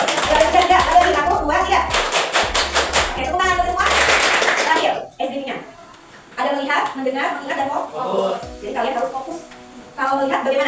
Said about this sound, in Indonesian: Tepuk 2 kali.